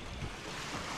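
A sailboat crossing from Hawaii toward Washington in about 11 knots of wind drops off the back of an ocean swell, heard as a steady close wash of waves and wind noise with no talk.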